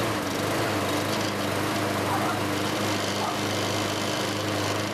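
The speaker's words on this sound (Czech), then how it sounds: "Lidé na místě zkoušeli, kolik hluku dělají zahradní sekačky." Garden lawn mower engine running steadily at an outdoor noise test, a continuous droning hum with a low buzzing tone that stays even and fairly loud throughout, with no talk over it.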